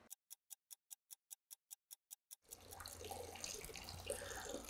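A water tap runs steadily into a sink during sampling for a public water supply, a broad loud gush that starts after a run of about a dozen evenly spaced faint ticks, with no voices.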